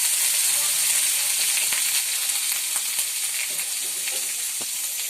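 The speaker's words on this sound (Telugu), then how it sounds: "అల్లం వెల్లుల్లి పేస్ట్ అడుగంటుకోకుండా కలబెట్టాలి." Ginger garlic paste fries in a pan while being stirred, giving a loud, continuous close sizzle with faint scraping ticks and no voices.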